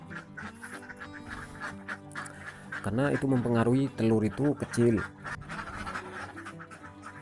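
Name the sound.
laying ducks quacking on a duck farm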